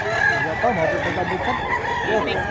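A rooster at a poultry seller's crows loudly and close by, its drawn-out call rising over a busy background of chatter and crowd noise.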